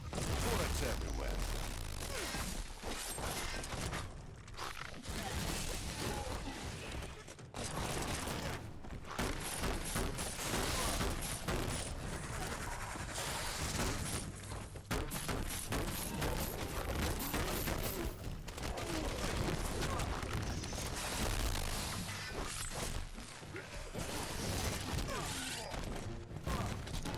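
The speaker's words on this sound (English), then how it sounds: "Bullets everywhere." Sustained heavy gunfire in Biomutant: dense volleys of shots and impacts with booms and mechanical clatter, running almost without a break for nearly half a minute, with voices talking now and then.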